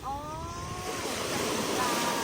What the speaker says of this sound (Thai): คลื่นมันก็สาดแบบนี้แหละ